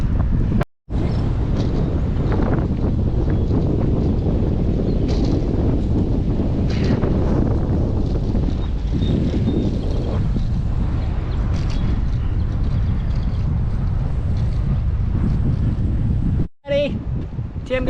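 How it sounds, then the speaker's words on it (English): Strong wind roars and buffets the microphone continuously during a bicycle ride on the Dakota and Hastings trail, loud and close, with brief dropouts. "Wind is blowing."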